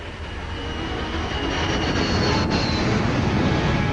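An Iran Air passenger jet roars overhead in a steady, dense rumble that swells slightly as it goes on, with a thin high whine running through it and no voices.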